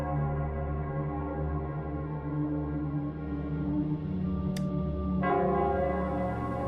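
In the video game Wuthering Waves, the Nell Squares bell rings out with a steady, deep, droning toll rich in harmonics, a brighter strike entering near the end, loud and unaccompanied by speech.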